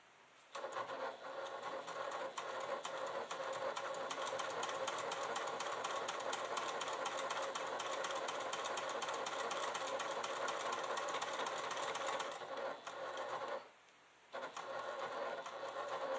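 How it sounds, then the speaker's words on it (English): A Bernette sewing machine stitches around a fabric clutch in a long, steady mechanical whir that runs continuously, pauses briefly near the end, then resumes. "Okay, and then we're going to stitch all the way around."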